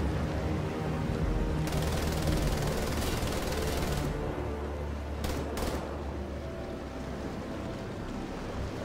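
Sustained automatic gunfire rattles through a firefight in Wolfenstein: The Old Blood, a dense loud burst lasting a couple of seconds followed by shorter sharp volleys.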